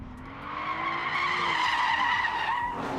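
A 2026 Audi RS5 drifting in torque rear mode lets out a loud, sustained tire squeal that wavers in pitch for about three seconds, with engine noise underneath.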